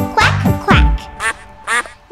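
Cartoon duck quacks ring out in a children's animal dance song, several loud, close, rhythmic quacks in a row, probably voiced by a singer imitating the duck over light music.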